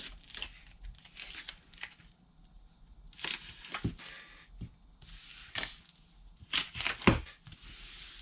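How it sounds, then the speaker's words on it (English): Adhesive tape being laid down and smoothed while assembling a large gift box from Dollar Tree Christmas cards: a series of close, sharp ripping and crinkling bursts with quieter rustling between them. "So I'm just going to very quickly lay down my tape."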